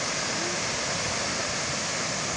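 The Sajji Kot waterfall throws off a spray of cold water, heard as a dense, unbroken roar of falling water close by that holds steady throughout.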